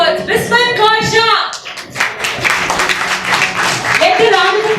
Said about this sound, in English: Let the round of applause just go on and on.